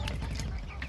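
Chickens cluck and scratch around a feed bowl they are walking in, short close clucks over a dense, busy rustle of the flock.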